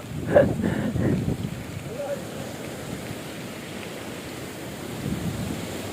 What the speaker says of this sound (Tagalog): grabing hangin, ang lakas ng hangin